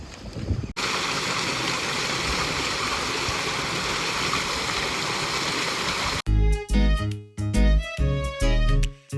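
Irrigation water rushing through a farm channel fed by a pump motor gives a loud, steady, broadband roar for about five seconds, then gives way abruptly to music.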